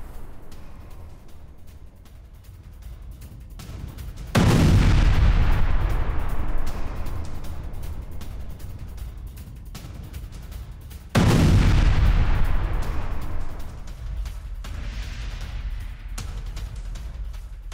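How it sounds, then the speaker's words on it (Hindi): Two heavy blasts from a HIMARS GMLRS rocket strike on a Russian bridge in Kursk, each a sudden loud boom followed by a long rumbling decay, spaced several seconds apart, with no voices. "हाइमार्स GMLRS से यह विध्वंसक हमला किया गया है"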